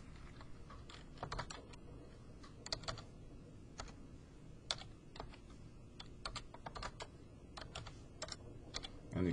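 Computer keyboard typing in short uneven bursts of clicks and key taps, close and fairly quiet, with no one speaking.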